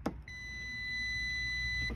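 A multimeter gives a continuity beep while testing relay pins: after a soft click, a single steady high-pitched tone sounds, fairly faint and clean, and holds for nearly two seconds over light background hum.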